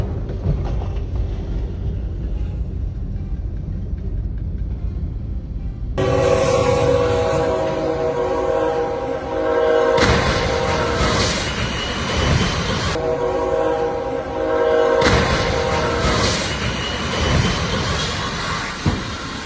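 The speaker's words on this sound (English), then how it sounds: "a truck stuck on the railway makes the safe distance to the train almost disappear" A train approaches a truck stuck on a railway crossing in Aledo, Texas, with loud blasts of its horn repeating over a steady rumble of rolling wheels and cars.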